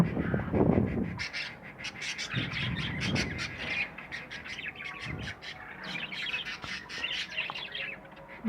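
Budgerigars, a female just placed into a male's cage, chirp and twitter busily in quick overlapping calls with a few harsher squawks, close and fairly soft, with no talking.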